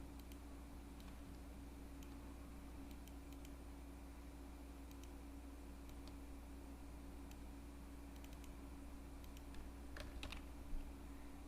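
Computer keyboard typing with keyboard shortcuts while editing text in Photoshop: a quiet, steady patter of soft keystrokes over a low constant hum, with a few slightly sharper clicks near the end.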